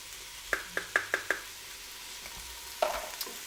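Vegetables being stirred into onion in a pot for salmon corn chowder: a quick run of five utensil clinks against the pot over a soft sizzle, then a single scrape, close up with no talk.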